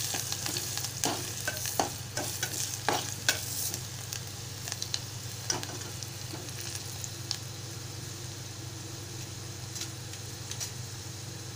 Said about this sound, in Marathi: 2 चिमूट हिंग घालत आहे, बारीक चिरलेला कांदा घालत आहे, मिश्रण छान एकजीव करून घेत आहे।